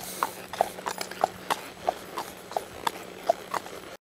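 A horse's hooves clip-clop on a road in a steady, even walking rhythm, each hoof strike crisp and fairly close over a low background hum.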